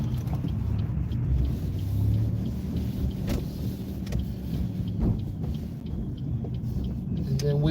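A car creeping slowly into a residential driveway under gentle braking, its engine a steady low rumble heard from inside the cabin, with faint road and interior noise throughout.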